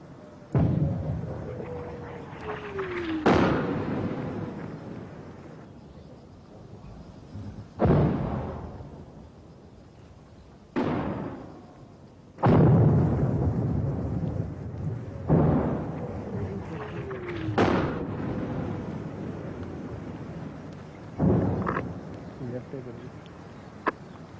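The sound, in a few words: artillery firing after fire command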